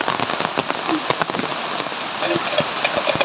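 Rain falls in a steady, close patter on surfaces, with sharper individual drops popping out irregularly above the dense wash.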